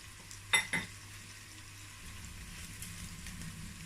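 Efo riro stew sizzles softly in a pot, two sharp utensil clinks against the pot early on, then a faint steady frying hiss under quiet room tone.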